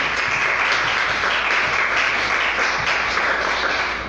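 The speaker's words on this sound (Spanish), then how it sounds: "Denle un aplauso." A church congregation bursts into dense, continuous applause during a Bible study service, loud and even throughout with no voices rising above the clapping.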